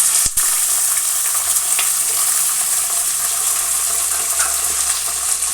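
Chopped onions sizzling in a hot pan for coriander rice, a loud, dense, continuous hiss of frying with a brief stir or clink near the start, no talk.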